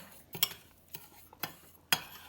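Seasoning mix of salt and sugar being stirred for red fish, with a handful of separate scraping, clinking strokes of a utensil against a bowl, spaced irregularly and fairly quiet.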